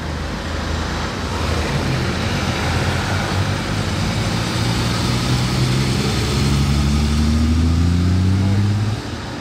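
Lamborghini Aventador Ultimae on a Monaco street with its exhaust valves open: a steady, loud engine rumble that swells and rises in pitch toward the end, with continuous road and ambient noise around it.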